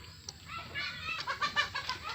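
Chickens and turkeys on a farm, including Rhode Island Red and black hens, give a run of clucks and calls at moderate distance, several overlapping bursts over a low background hum.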